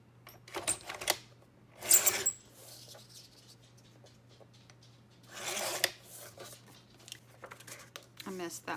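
Scissors cut a paper strip from a 12x12 sheet of craft paper, giving a few scattered crisp snipping and rustling bursts over a low steady hum, with quiet talk in between.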